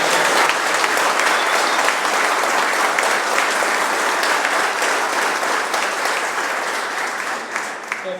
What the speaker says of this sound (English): let's give the 3 former mayors a big round of applause